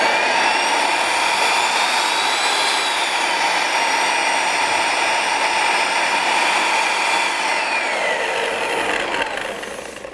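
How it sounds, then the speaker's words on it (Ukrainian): A Yato YT-82340 wall sander runs at full speed with a loud, steady whine and motor hum, its pitch drifting slightly before the sound starts to fade near the end. "І давайте ж увімкнемо нашу шліфмашину."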